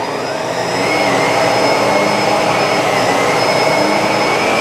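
Bissell SurfaceSense Allergen Lift-Off Pet upright vacuum cleaner switched on, its motor spinning up within the first second into a loud, steady whine that holds without talk.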